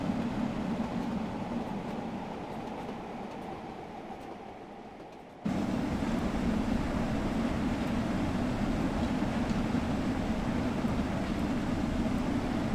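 Steam locomotive in Train Sim World 3 working at full power over the Peak Forest line, a steady heavy rumble that jumps sharply louder midway and then holds a dense, continuous roar with no talk.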